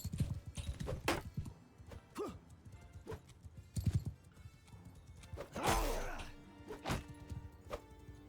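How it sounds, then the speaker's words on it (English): Horse hooves clopping and a short whinny in the Mount & Blade II: Bannerlord video game, heard amid battle noise with a voice talking over parts of it. "Buddy, that is my horse."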